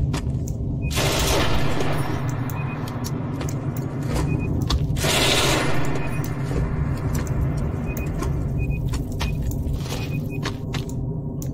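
Sustained rapid gunfire from automated turret guns in the sci-fi game Genesis Alpha One, loud and continuous with two sharper bursts, over a steady low mechanical rumble.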